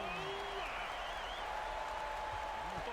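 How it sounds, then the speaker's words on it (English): Crowd noise in the NBA 2K26 basketball video game forms a steady arena roar with scattered applause after a dunk, while a commentator's voice runs faintly over it. "this crowd is in awe of that Mitchell dunk"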